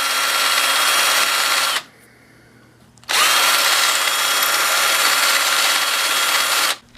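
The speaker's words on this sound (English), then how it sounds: "Deburr our cut areas." A power tool deburrs the cut ends of tubing during track fabrication, giving a loud, close, high whirring burst, a brief pause, then a second longer run that stops abruptly.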